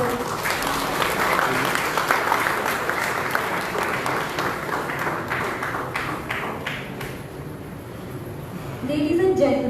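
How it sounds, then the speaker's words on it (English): Audience at a prize distribution function for a cooking competition applauding loudly and steadily for about eight seconds, dense clapping that thins toward the end, with voices rising briefly at the close. "Can we have a huge round of applause for this?"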